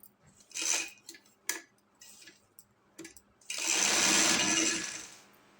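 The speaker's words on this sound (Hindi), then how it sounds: "अब हम इस साइड पे सिलाई लगाएंगे।" A sewing machine runs in short, separate bursts while stitching a cuff seam, and then settles into one longer steady whir that fades out. The motor sounds close, with quiet handling noises between the runs and no voices.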